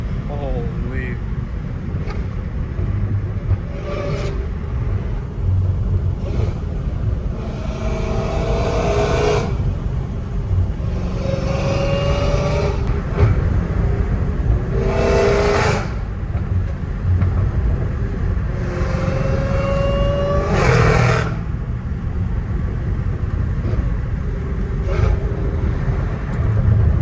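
A Dodge Hellcat Redeye driven gently while warming up in Los Angeles, its engine giving a steady low rumble throughout, with a few brief rises in revs and someone talking over it.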